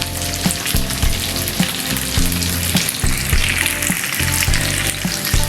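Tofu fries in hot oil on its way to golden brown, making a dense, continuous crackling sizzle that stays close and loud throughout, with faint stirring taps and no voices.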